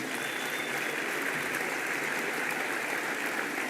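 A gala crowd applauds a former international handball player: dense, steady clapping from many hands, fairly distant and even throughout, with no voices on top.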